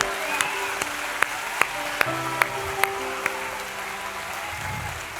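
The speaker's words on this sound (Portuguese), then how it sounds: "quer aplaudir Jesus? Aplauda." A church congregation applauds during a sermon, a wash of clapping at moderate distance punctuated by a few sharp, regularly spaced claps near the microphone.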